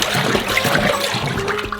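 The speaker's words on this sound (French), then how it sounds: "on utilise un bâton pour mélanger les poudres sèches avec l'eau" A stick churns dry powders into water in a bowl, giving a loud, continuous sloshing and watery swirl with small splashes and trickles, close up and without voices.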